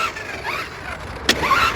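An MJX Hyper Go 10304 1/10 scale VW Polo rally RC car on a 2S battery drives on a car park. Its electric motor whines and rises in pitch, and there is a sharp squeal partway through.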